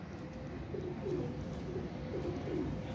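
Soft, low cooing from Teddy pigeons repeats in gentle murmuring phrases over a steady background hum, with no talking.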